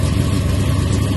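A Chevy box car engine runs steadily after being cranked up, a loud, continuous low rumble close by with no talking.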